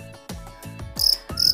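A young fighting cricket chirps up close in short, sharp bursts, several pulses in quick succession, loud and clear with no talking.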